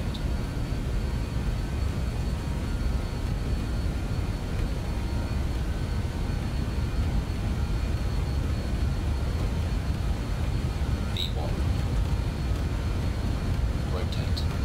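BAe 146 jet engines at takeoff power on a runway in a flight simulator, a steady broadband roar with a faint whine holding constant throughout, with a couple of faint clicks late on.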